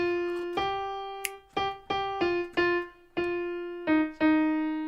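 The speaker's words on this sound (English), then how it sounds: "listen to that just on the piano" Piano plays the alto line of a choral passage from Mendelssohn's Elijah, "O come everyone that thirsteth," as a slow series of about nine clear, sustained single notes, close and alone with no voices.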